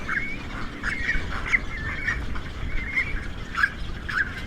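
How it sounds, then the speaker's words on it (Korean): Great cormorant chicks in a nest atop a tall pine clamor for fish, repeated harsh squawking calls over a busy background of other birds, moderately close. "물고기를 어미가 통째로 삼키자 새끼들이 서로 달라며 아우성입니다."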